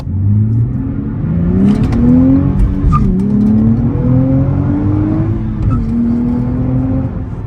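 A 2023 Nissan Z accelerates hard with a loud, rising engine note that climbs through the gears, tires squealing along the way; it sounds close and continuous, with no talking.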